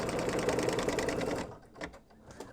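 An embroidery sewing machine stitches an in-the-hoop pumpkin bag in a steady, fast needle rhythm for about a second and a half, then stops, leaving a few soft clicks and handling noises.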